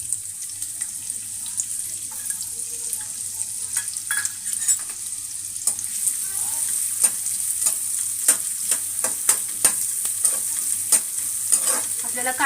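Onion with ground coriander and cumin frying and being stirred in a pan for mirchi vada, a steady close sizzle broken by frequent scraping stir clicks and brief running water, with no talking.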